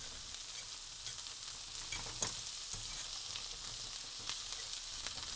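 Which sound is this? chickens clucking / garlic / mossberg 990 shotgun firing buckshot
garlic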